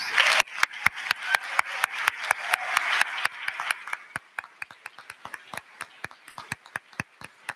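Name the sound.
audience applause for graduating students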